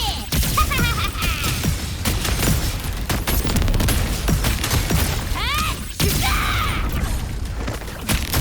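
Gunfire rattles in the video game Wuthering Waves as rapid bursts of shots and mechanical clatter with booming impacts, loud and continuous beside game effects.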